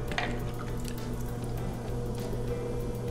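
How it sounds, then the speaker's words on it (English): Wet clay being centered by hand on a spinning potter's wheel, with soft squishing and wet rubbing over the steady low hum of the wheel motor, close and fairly quiet. "use both your hands, centrifugal force and pressure to center it on the wheel"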